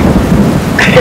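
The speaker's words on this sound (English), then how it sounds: "It's rainy out here." Steady rain pours with a deep thunderstorm rumble outdoors in Singapore, a loud, continuous wash of noise with no talking.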